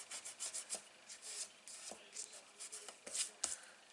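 Soft, quiet rubbing and brushing strokes as glue is smeared onto a paper flap of an origami 3D snowflake, with an irregular rhythm and a few faint taps up close.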